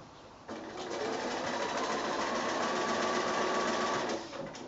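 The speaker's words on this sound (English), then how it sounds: "We just want to sew in about 1/4 inch in from the folded edge, just to hold that in place." A sewing machine stitching along the folded edge of fabric squares for a drawstring bag, a close steady whirring run of about four seconds that starts and stops abruptly, no voices.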